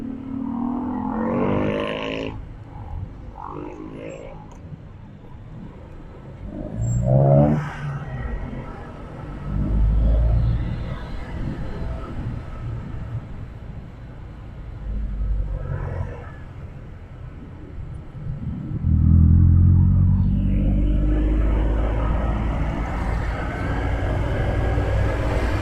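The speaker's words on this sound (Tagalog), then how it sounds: "traffic na naman" Traffic on a main road in Bacolod City: engines rumble and swell as vehicles pass close by, with a heavy low roar building near the end, continuous and fairly loud.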